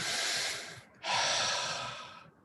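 Slow, deep breathing during a guided meditation: two long, close airy breaths separated by a short pause, soft and steady with no talking.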